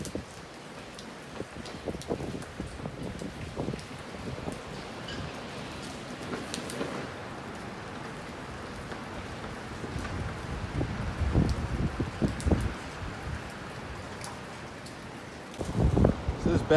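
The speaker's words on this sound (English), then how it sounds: "It's drizzling and 30." Light drizzling rain and gusting wind on a mountain summit at Mount Mansfield, Vermont, a steady soft hiss with wind rumbling against the microphone and occasional louder rustles.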